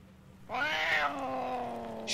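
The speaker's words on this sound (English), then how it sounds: "I'm in a cave with pissed off werecat." An angry werecat in the video game Homesick gives a loud, drawn-out snarling yowl inside a cave. It starts abruptly and holds for well over a second over a low steady hum.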